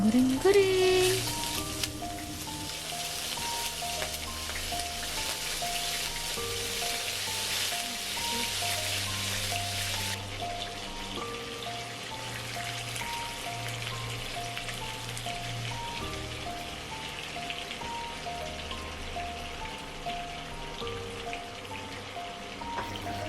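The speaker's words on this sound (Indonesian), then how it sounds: "Masuk step paling seru, kita goreng cuminya." Squid fries in hot oil with a steady, crackling sizzle that continues throughout, with light music playing underneath.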